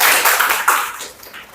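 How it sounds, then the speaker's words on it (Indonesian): A class of students applauds, heard as a short, bright burst of many hands clapping nearby that fades away within about a second and a half. "Tepuk tangan dong."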